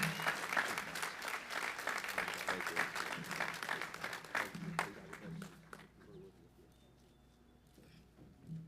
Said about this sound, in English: Please join me in a round of applause to congratulate Julia